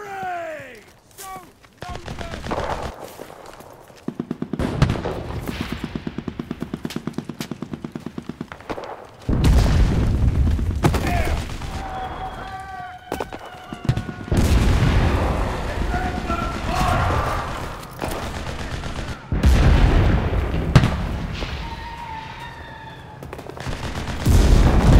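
Artillery support strike in the video game Enlisted: a long barrage of booming explosions and heavy gunfire rolling across the whole stretch, loud and sustained, with shouted voices mixed in.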